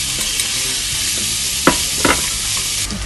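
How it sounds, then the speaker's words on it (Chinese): Garlic fries in a hot wok with a loud, steady sizzle and a few sharp spatula scrapes, close up, no talk. "我哋先要爆香咗个蒜头先"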